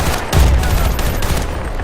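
Loud, close bursts of rapid gunfire in the video game Battlefield Bad Company 2, heavy thumping shots blurring into a continuous fusillade for a couple of seconds.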